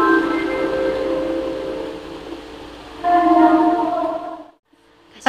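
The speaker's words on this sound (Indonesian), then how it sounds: "Bel kereta api Al Hikmah." A school bell at Al Hikmah rings with a sustained, train-like tonal clang, loud and steady, swelling again partway through before cutting off into near silence.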